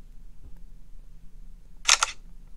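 A single crisp smartphone camera shutter click, brief and fairly loud, against an otherwise quiet background.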